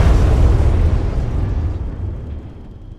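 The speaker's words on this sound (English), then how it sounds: "So here's an example of a medium explosion at night." Medium-sized IED blast at night in Arma 3, already roaring at full force, a deep broad rumble that steadily fades across three seconds.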